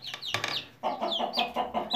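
Chickens clucking in a coop where hens sit on eggs, with a rooster nearby: a short burst of calls, a brief pause, then a run of repeated close, fairly loud clucks with no talking.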